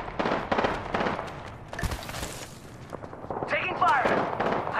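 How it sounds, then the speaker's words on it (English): Gunfire in the Apex Legends video game, with bursts of shots and booms scattered through the clip, mixed with other game effects and voice chatter. "The enemies are shooting at me."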